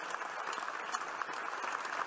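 Sustained applause fills the US Senate chamber for Senator John McCain, a dense, steady patter of many hands clapping at even loudness throughout.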